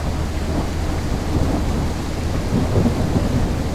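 Video game thunderstorm from Endless Suburbia: steady rain hisses with a low rolling rumble of thunder underneath, continuous and fairly loud, no voices.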